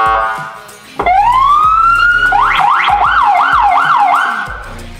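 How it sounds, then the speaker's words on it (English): A loud police siren on a Polaris UTV police vehicle starts with a rising wail, then switches to a rapid up-and-down yelp, close and continuous before fading slightly at the end. "We've got our air horn and siren."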